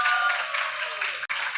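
Audience applause at a campus event, a dense steady wash of clapping that carries through the whole stretch with one brief break near the end.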